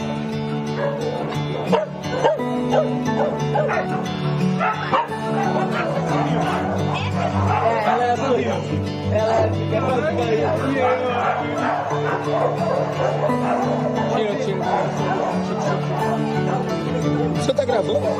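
Dogs at an open-area shelter bark, yip and whimper throughout, several animals overlapping at steady loudness with voices talking underneath.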